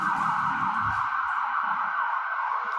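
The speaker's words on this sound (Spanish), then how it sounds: "Vamos a esperar que pase la sirena." A passing emergency vehicle siren holds a steady wailing tone at moderate distance, with traffic rumble underneath that fades as it moves on, and no voices.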